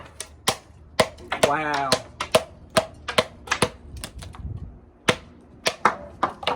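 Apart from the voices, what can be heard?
Work Tuff Gear Carnivore Gen 2 knife chopping wood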